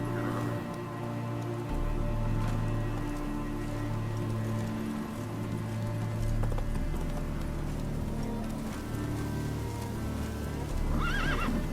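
A horse in The Witcher 3: Wild Hunt gallops with a steady clip-clop of hooves over a soft ambient wash, and a whinny rises near the end.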